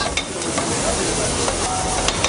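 Pancetta frying in a little olive oil for a Welsh lamb ragout gives a steady, loud, close sizzle and crackle that holds without a break.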